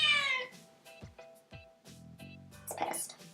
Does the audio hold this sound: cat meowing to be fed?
yes